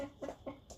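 A young rooster chick of a large heavy breed clucks softly in three or four short calls, fairly close and quiet, with no talking.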